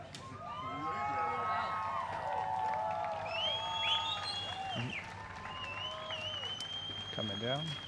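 A beach crowd at the 80th anniversary of D-Day at Juno Beach cheers with scattered applause, swelling steadily, while an amplified announcer speaks over it during a parachute jump display.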